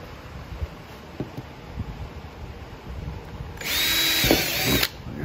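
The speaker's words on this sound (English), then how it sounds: "drill." A power drill whirs loudly in one steady burst of about a second while installing a rear door table on a Lexus GX470, after a stretch of faint background noise and light handling sounds.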